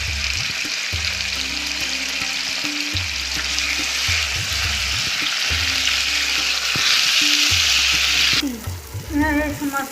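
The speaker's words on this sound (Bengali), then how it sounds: "এই মশলা ভাজা হয়ে গেছে" Ground spices with salt, turmeric and Kashmiri chilli sizzle loudly in a pan for brinjal curry, with steady broadband frying hiss and repeated stirring scrapes in a regular rhythm, the sizzle dropping off near the end.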